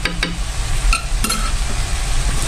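A mushroom omelette mixture seasoned with chicken powder is stirred briskly in a bowl, with steady scraping and clinking over a faint sizzle-like wash, close and fairly loud without talk.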